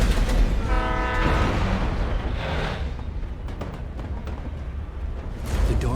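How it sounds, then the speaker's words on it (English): A train rumbles past overhead in the video game Alan Wake, a loud low roar with a brief horn-like tone early on and rattling clatter fading as it moves away. "Train's going overhead."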